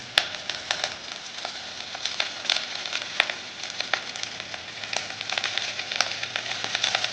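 Fresh ginger sizzling steadily in hot oil in a pan while a fish curry is being cooked, a dense close hiss broken by frequent sharp crackles and pops.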